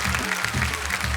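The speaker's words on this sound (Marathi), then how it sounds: "जोरदार टाळ्या त्यांच्यासाठी" Applause for a kirtan performer, Hari-bhakti-parayan Dnyaneshwar Maharaj, on a Marathi kirtan competition show: a short, steady burst of clapping with music underneath, loud and continuous throughout.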